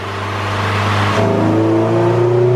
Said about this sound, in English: Sounds so good. Gotta love that VTEC.